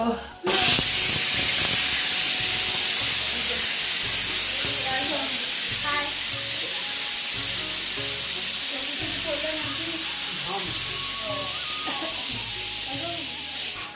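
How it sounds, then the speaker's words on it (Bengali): Cabbage boils and steams on a home stove, a loud, constant hiss filling the scene throughout, with faint background sounds and possible voices underneath. "বাঁধাকপিটা সেদ্ধ হচ্ছে"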